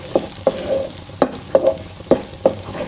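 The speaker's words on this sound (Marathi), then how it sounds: "आता आपल्याला हे सारण चांगलं परतवून घ्यायचं आहे" A corn and cheese paratha filling is stir-fried in a pan, with a steady sizzle and about eight sharp, evenly spaced clacks of a spatula stirring against the pan, close and clear.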